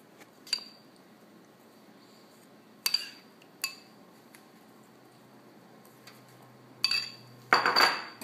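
A spoon scoops herb rub and clinks against a metal dish while it is spread over a prime rib, giving several sharp, near clinks among quiet pauses, then a louder clatter at the end.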